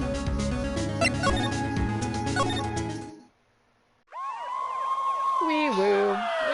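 Synthesized wailing siren in the Phoenix Wright video game, entering after a burst of music and a short silence, with clear rising and falling sweeps that are loud and close.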